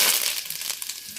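Curry leaves drop into hot oil in a kadai and crackle briefly up close, a bright crisp spatter with a final sharp pop.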